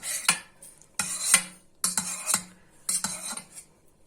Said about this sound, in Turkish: Peynirimizi şöyle bıçakla kesikler atıyorum